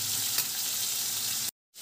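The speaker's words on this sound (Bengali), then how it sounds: "হালকা ভাজতে হবে, বেশি ভাজতে হবে না, হালকা করে ভেজে নিতে হবে।" Shrimp lightly frying in hot oil make a steady, close sizzle that runs unbroken, then cuts out abruptly near the end before returning faintly.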